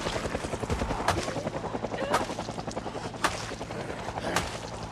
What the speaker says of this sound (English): I don't know when the helicopter's gonna end.